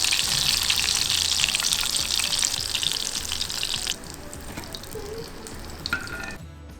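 Prawns frying in hot oil give a loud, dense, continuous sizzle that drops partway through and thins out toward the end, close and with no voices.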